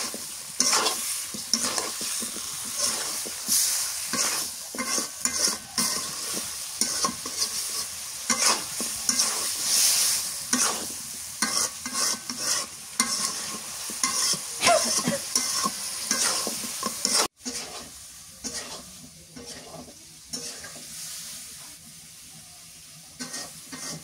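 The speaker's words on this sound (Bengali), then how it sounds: "একসাথে কষাই নিই" Small prawns, eggplant and red desi potatoes sauté together in a pan, with steady sizzling and repeated stirring scrapes for most of the clip. The frying quiets and thins out near the end.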